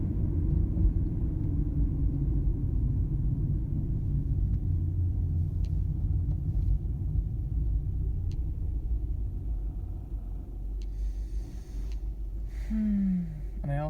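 Steady low engine rumble and road drone heard from inside a moving car, continuous and fairly loud throughout, with faint clicks and a brief rising whine near the end.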